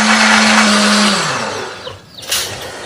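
A kitchen blender grinds red chili, shallots, garlic, turmeric and candlenuts into a spice paste, running loud and steady with a motor whine, then slowing down and stopping before a brief clatter.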